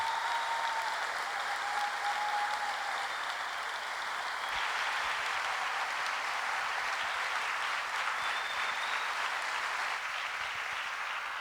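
Sustained applause from an audience at a political talk on communication and the green wave movement, a dense steady wash of many hands clapping for the full stretch with no voices over it.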